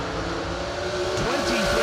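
Drag racing cars at a New Year Nationals meet roar loudly and steadily, engine pitch rising as they launch off the line, close and dense, with an announcer talking over the noise.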